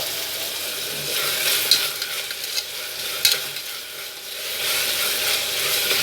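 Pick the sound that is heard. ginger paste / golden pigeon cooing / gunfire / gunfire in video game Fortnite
ginger paste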